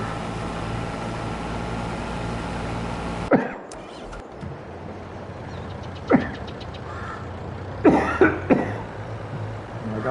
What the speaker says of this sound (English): And I got that cough, guys.